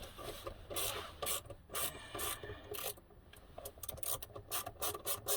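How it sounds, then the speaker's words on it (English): Nut on the battery ground terminal of a GMC Acadia SLT being loosened by hand, a series of close, repeated ratcheting clicks and metallic scraping in quick, uneven bursts. "You gotta take this nut off all the way"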